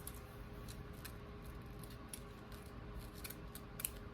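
Scissors snip through ribbon or paper while a tiered diaper cake is being assembled, a string of quiet, crisp cuts in an irregular rhythm, close up and alone.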